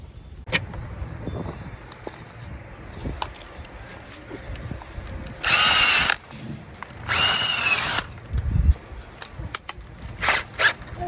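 Power drill with an auger boring holes into a garden bed for planting garlic, several loud whirring bursts of a few seconds each, separated by quieter rustling and handling outdoors.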